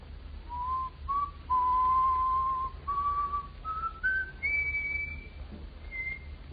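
A person whistles a slow, rising tune of clear held notes, alone and fairly quiet.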